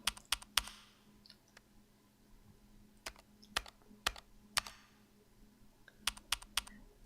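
Keys on a computer keyboard clatter in sharp, uneven clicks and short bursts, separated by quiet gaps, close and moderately loud, with no talking.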